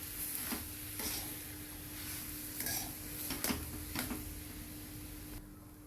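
Peas are stirred and sautéed in a pan over a low flame for a potato filling, with soft sizzling under repeated scrapes and taps of a spoon against the pan, quiet and close.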